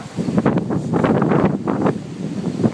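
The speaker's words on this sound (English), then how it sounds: "There's like really bad wind in Indio, California, as you can see." Strong wind blowing hard in Indio, California, roaring and buffeting steadily against the microphone throughout, loud and close with no talk.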